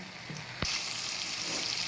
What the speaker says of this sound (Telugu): ఆయిల్లో చట్నీ మగ్గేటప్పుడు ఆ స్మెల్కి మనకి ఆకలి వేస్తూ ఉంటుంది.